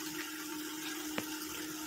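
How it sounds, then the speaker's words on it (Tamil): Tamarind soaking water poured into ground ripe tomato paste for rasam, a soft continuous trickle with a low steady hum behind it and one brief splash near the end. "அந்த தண்ணியை ஊற்றிக்கலாம்."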